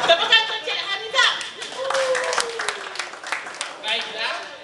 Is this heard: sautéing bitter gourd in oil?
no